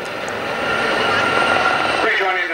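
A Gazelle helicopter flying at a 1991 airshow in Leicester gives a steady, fairly loud rotor and engine drone with a slight whine, heard alone without talk.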